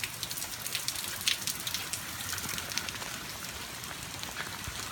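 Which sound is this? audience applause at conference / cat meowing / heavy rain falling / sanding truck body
heavy rain falling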